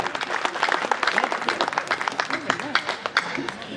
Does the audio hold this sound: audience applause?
yes